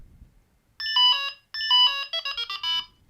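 Delkim bite alarm beeping electronically as it resets to default, giving clusters of bright tonal beeps in short bursts with gaps between them, close and clear, with no talking.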